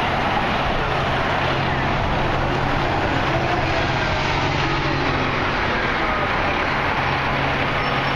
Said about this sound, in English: CTA bus coming.